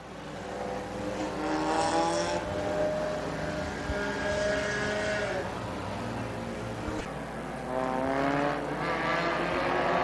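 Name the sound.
stinger race cars racing at Dixie Speedway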